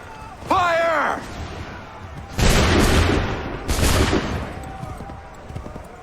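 Volleys of musket fire ring out in Assassin's Creed III Remastered, two heavy broadside bursts of many shots crackling together with booming tails, preceded by a shouted command, with lingering rumble and distant shots afterward.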